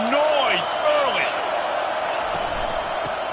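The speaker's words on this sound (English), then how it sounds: "This crowd bringing the energy and noise early." Stadium crowd roar from the College Football 25 video game, a loud continuous wash of cheering under a commentator's talk, with whistling, whooping tones rising over the noise early on.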